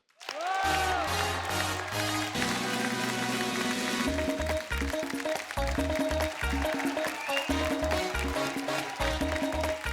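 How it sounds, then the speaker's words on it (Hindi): Studio audience applause and cheering welcoming actress Esha Deol onto The Kapil Sharma Show, a steady clapping wash running the whole time beneath loud, beat-heavy entrance music. "आप सबकी जोरदार तालियों के बीच में बुलाना चाहूंगा। Please welcome Esha Deol."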